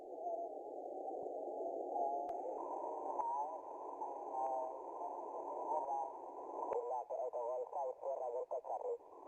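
Radio receiver audio comes through a very narrow filter bandwidth, sounding thin and muffled, with faint chirps and tone blips over a steady hiss. The sound shifts slightly partway through.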